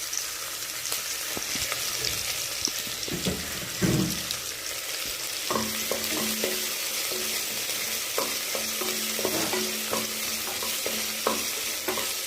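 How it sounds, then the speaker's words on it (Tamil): Onions sauté in hot oil in a pan while being stirred for a tomato curry: a continuous sizzle with a few louder clatters of the spoon, close and without speech. "நம்ம கட் பண்ணி வச்சு ஆனியன்ஸ் ஆட் பண்ணிக்கலாம். ஆட் பண்ணக்கப்புறம் நல்லா வதக்கிட்டுக்கோங்க."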